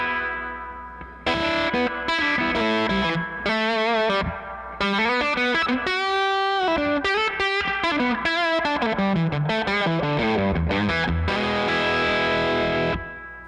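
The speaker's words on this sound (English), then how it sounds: "That's a reverb. That's a Boss Fender 63 Spring." Distorted electric guitar played through a Boss Fender '63 spring reverb pedal into a tweed Deluxe-style amp, with sustained chords and single notes separated by short gaps, each tail blooming with splashy spring echo.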